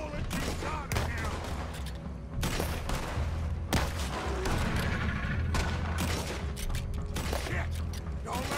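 Red Dead Redemption 2 gunfire aimed at a swamp monster: dense volleys of gunshots and rapid bursts crack over a loud, busy game soundscape, with voices shouting in between.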